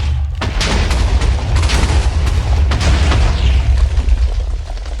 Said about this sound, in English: I'm gonna light all these TNTs now, and then we're gonna probably prepare for the biggest explosion.